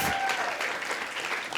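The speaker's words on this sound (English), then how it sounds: "why don't we have a round of applause for your wonderful bartenders and wait staff?" A bar crowd at a storytelling show applauds the bartenders and wait staff, a steady wash of many hands clapping at moderate distance, even and sustained throughout.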